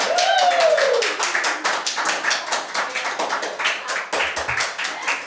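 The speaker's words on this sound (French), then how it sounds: "Dans ce cas, applaudit de franche cœur." A television studio audience claps in unison, a slow, even rhythm of sharp, distinct hand claps that continues steadily, with a brief tone near the start.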